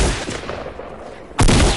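Bursts of gunfire in the video game Fortnite, played on PS4 with keyboard and mouse, sound loud and close: a sustained rattle and then a sharp, heavier burst near the end.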